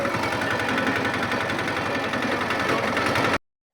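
A tractor engine runs with a steady, close mechanical chugging and vibration at an even volume, then cuts off abruptly near the end.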